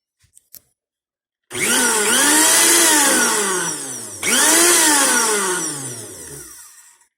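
An older, louder blender motor runs hard for about five seconds, briefly dipping and restarting, with a loud steady whine and a churning, grinding roar heard alone after a few faint clicks.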